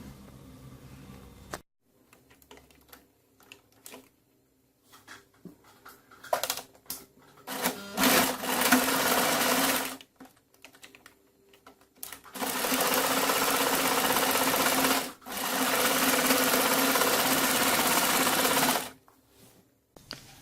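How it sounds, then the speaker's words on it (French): A sewing machine stitching fabric with a bias strip for a drawstring pouch, running in several loud, steady bursts of fast mechanical whirring, with short stops, handling clicks and quiet gaps between runs. "il faut coudre."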